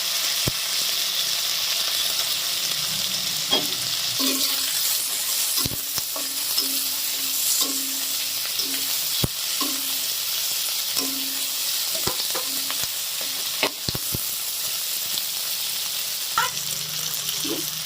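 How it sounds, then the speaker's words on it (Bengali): Onion, tomato, cashews and two chillies frying in a pan, a continuous soft sizzle broken by repeated scraping strokes and taps of a spatula stirring, close by with no talk. "কাজুটা ভাজা হয়ে গেলে পেঁয়াজ আর টমেটোটা দিয়ে দেব,"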